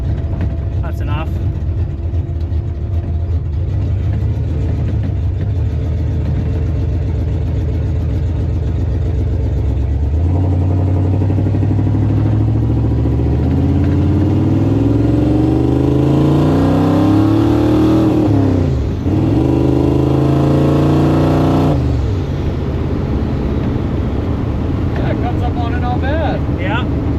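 A turbocharged AMC Jeep engine drives and revs up close, rising and falling in pitch through gear changes with a steady loud drone underneath.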